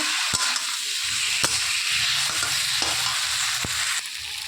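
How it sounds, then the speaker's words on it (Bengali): Ghonto shukto, a Bengali mixed-vegetable dish, stirred in the pan with roasted cumin-coriander powder: a loud, continuous frying hiss with sharp spatula scrapes and clacks at irregular intervals, close up and without speech. "জিরে আর ধনে একসঙ্গে ভেজে গুঁড়ো করা ছিল, সেটা দিয়ে ভালো করে মিক্স করে নিচ্ছি নেড়ে চেড়ে"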